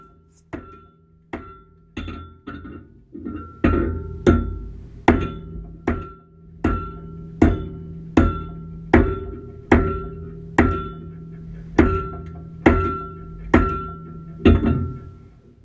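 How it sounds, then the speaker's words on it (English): A big hammer forges metal on an anvil beside a hand-crank forge while a hawk is shaped from an old hammer head: about twenty loud ringing blows in a steady rhythm, each followed by a brief metallic ring. "even with that big hammer, my anvil doesn't jump around very much"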